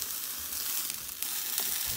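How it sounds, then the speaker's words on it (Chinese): Tofu skins fry in a pan until golden on both sides, a continuous soft, close sizzle with faint crackles and no voices. "再煎2分钟，把豆腐皮煎至两面金黄，"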